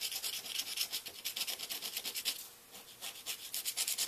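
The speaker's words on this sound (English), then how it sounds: "Scraping the way back to the crayon." Scraping back through paint to reach crayon on a drawing, heard as fast rhythmic strokes of dry scratching, close and fairly quiet, one short pause midway and no voices.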